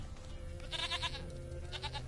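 A goat in The Witcher 3: Wild Hunt gives two close, fairly loud bleats, the first longer and quavering, the second shorter, over a low game ambience.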